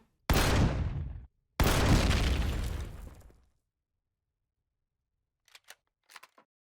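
Two loud sniper rifle shots in the video game Empyrion Galactic Survival, each a heavy blast with a long decaying tail, followed after a silence by a few faint clicks.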